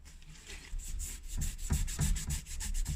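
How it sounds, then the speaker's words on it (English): A rag soaked in white spirit is rubbed over an original steering wheel being restored. The close strokes make a rhythmic scrubbing, rising and falling in quick repeated passes with no voices. "I'm literally just rubbing it in white spirit."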